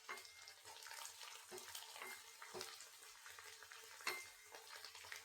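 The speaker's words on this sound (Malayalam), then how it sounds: "നല്ലോണം പൊരിഞ്ഞ് വരുന്നുണ്ട്" Pieces of leftover dosa fry in hot coconut oil with a soft, steady sizzle and crackle, stirred now and then with a few light scrapes, heard close and fairly quiet.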